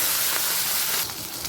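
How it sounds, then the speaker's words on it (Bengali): Bata fish dropped into smoking-hot oil gives a loud, steady hiss and steam-like sizzle that eases slightly toward the end. "তেল থেকে ধোঁয়া উঠতে শুরু করে দিয়েছে এই সময় দিয়ে দিচ্ছি মাছ"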